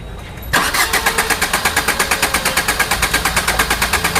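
A Maruti Ertiga that won't start is cranked: after a brief quiet moment the starter kicks in loud and close with a fast, steady rhythmic churning that continues without the engine catching.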